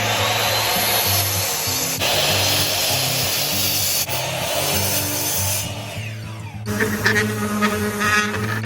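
Wood pieces for a rustic butt-joint picture frame are worked with a power tool, a loud continuous whining, rubbing drone with shifting pitch, changing to a rougher sanding texture near the end.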